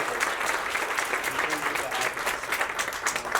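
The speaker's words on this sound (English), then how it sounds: "give his team a round of applause." Steady applause from an audience at a gathering at the Ranchers Club, a dense continuous patter of many hands that stays at a moderate, even level throughout with a faint murmur of voices beneath.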